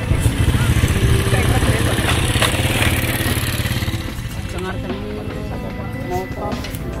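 A motorcycle passes outdoors during a hunting outing, its engine a steady mid-pitched drone that is loudest at the start and slowly fades, while people talk nearby.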